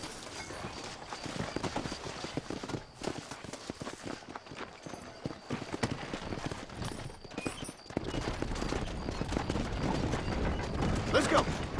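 In Red Dead Redemption, hooves clip-clop and wooden wheels creak and rattle continuously as a horse-drawn wagon rolls along, with a faint voice heard briefly.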